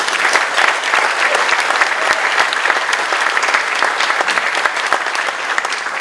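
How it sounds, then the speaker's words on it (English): Audience applause at a farm-to-fork gathering honoring the hosts, a dense, steady wash of many hands clapping that holds loud and even for the full six seconds with no talk over it. "Can we give them a round of applause?"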